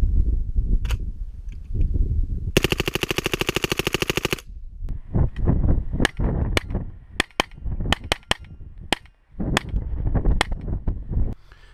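A Rugged Obsidian 45 ACP suppressor, rated for full auto, firing loud suppressed gunfire: one long rapid full-auto burst, then a string of single shots and short doubles, each a sharp dull crack close to the microphone.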